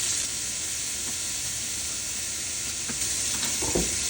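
Chunks of smoked bacon frying in a pan give a steady, dense sizzle and hiss, with a few soft stirring scrapes near the end.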